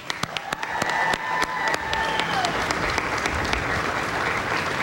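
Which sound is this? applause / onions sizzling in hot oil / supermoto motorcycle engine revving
applause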